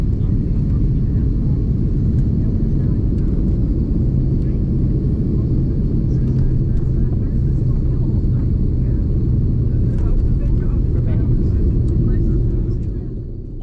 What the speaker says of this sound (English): Be sure to pay attention to this powerful reverser slowing us down on this wet day when the spoilers come up.